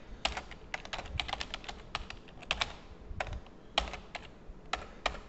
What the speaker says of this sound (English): And then you just type in a little brief message